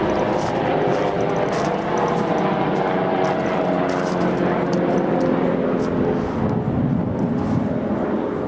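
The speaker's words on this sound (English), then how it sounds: "Alright, they're sending in the chopper." A helicopter flies over a churchyard, its loud, continuous engine and rotor roar filling the scene steadily with no talk.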